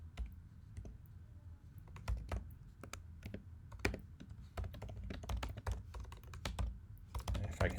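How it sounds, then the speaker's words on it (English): Keys clatter on a computer keyboard in an irregular run of close taps over a low steady room hum, with no talk. "If I can type my name correctly,"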